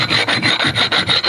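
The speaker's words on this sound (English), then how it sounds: "File the surface of the ring gear and the carrier. You can use a file. You can also use a stone" A sharpening stone rasps back and forth across the surface of a differential ring gear and carrier, about six even, close strokes in a steady rhythm with no talking.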